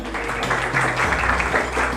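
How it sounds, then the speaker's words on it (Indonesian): A classroom of students claps together during a morning lesson. The short burst of applause is moderately loud and steady, with a faint swell in the middle. "Tepuk tangan untuk kita semua."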